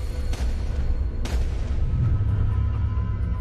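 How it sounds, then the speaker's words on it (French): Two sharp gunshot cracks from a sound effect ring out a second apart over a heavy, steady low rumble. They are fairly distant and punchy, and there is no talking. "Puis soudain, elle a entendu des coups de feu."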